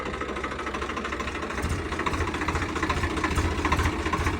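A Swraj 855 tractor, fitted with 18-inch tyres and tuned to 65 horsepower, runs with a steady, rhythmic diesel chugging that grows slightly louder and faster, heard close and alone.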